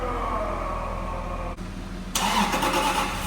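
A Lamborghini Revuelto engine cranks and catches, its rumble swelling suddenly louder partway through as it fires up, close and steady with no talking.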